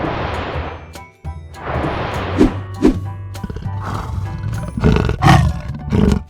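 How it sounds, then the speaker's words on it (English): Leopard roaring up close: loud, rasping breathy calls in a sawing series, a couple of long hoarse bursts followed by shorter grunting pulses. "Can you guess this animal sound? This voice is leopard."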